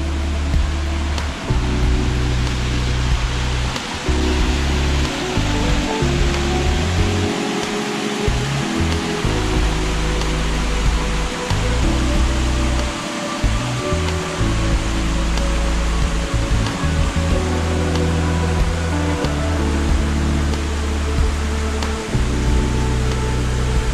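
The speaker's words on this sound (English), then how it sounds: "You can actually walk down by the waterfall here" Steady broadband roar of the waterfall at Crabtree Falls, Virginia, heard up close from rocks beside the falls, loud and continuous throughout with no talking.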